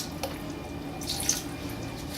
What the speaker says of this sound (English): We're just going to do a splash, and a splash, and our lemon.